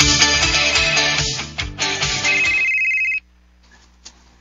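A mobile phone ringtone plays loudly for about three seconds as a busy melodic tune with a sustained high tone, then cuts off abruptly into near silence.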